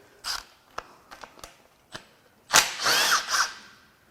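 A power tool whirs in short bursts and then a longer, louder run as it zips bolts off a flooded 1987 Mazda RX-7 Turbo II rotary engine during teardown, with metallic clanks between bursts, close and loud.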